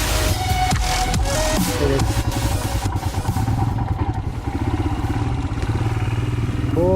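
A Royal Enfield Himalayan motorcycle riding an offroad trail, its engine loud and close throughout with a rough, revving note and clattering bumps from the rough ground.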